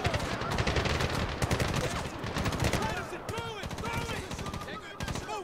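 Rapid bursts of automatic gunfire and single shots crackle densely throughout a firefight in the video game Medal of Honor (2010), loud and continuous with some echoing impacts.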